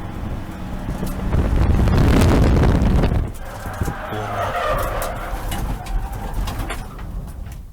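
A race car spins out at 132 kph at Croft circuit in a GAZ Shocks 116 Trophy race, a loud burst of tire skid and engine roar that fades into scattered scraping and rustling, with faint talk underneath.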